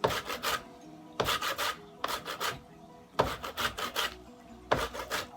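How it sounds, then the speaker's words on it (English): A lemon grated for zest produces four bursts of quick, rasping scrape strokes separated by short pauses, close and fairly quiet, with no one talking. "I'm on my last lemon, and I'm about to grate it"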